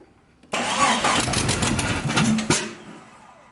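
A Jeep Cherokee XJ engine on its first start: a sudden loud burst of cranking and catching that runs rough for about two seconds, then cuts out abruptly, close by with no talk.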